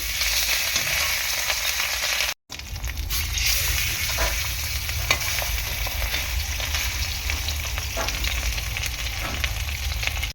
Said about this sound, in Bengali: প্রথমে মামামের জন্য মাছ দুটো ভালো করে ভেজে নেব